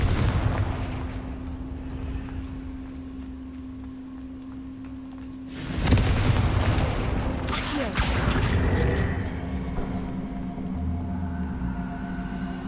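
Confringo blasting spell explosions in the video game Hogwarts Legacy: a sudden loud booming burst, then a second heavy blast a couple of seconds later, over a constant game hum and background ambience.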